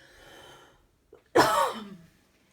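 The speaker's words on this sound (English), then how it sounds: "I'm going to cough." After a faint murmur and a brief pause, a single sharp, loud cough bursts out close by, trailing into a short rasping exhale before silence.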